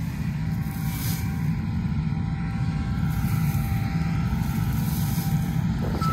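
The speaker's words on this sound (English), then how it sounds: "I was just driving the combine here for a minute just so I can get down and check the straw." A combine harvester is driven during the grain harvest, giving a steady, loud low engine drone with a constant rumbling mechanical roar and some wind buffeting the microphone, continuous throughout with no talking.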